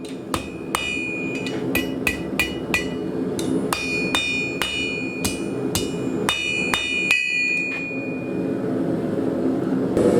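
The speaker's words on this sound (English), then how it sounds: "we're going to take it to the horn, and while we're hitting the finial, I'm going to be bringing the other side of the hook down" A hammer strikes hot steel on the horn of an anvil while a blacksmith shapes the finial of a drivehook, ringing out in a series of sharp, close metallic blows in irregular bursts with brief pauses.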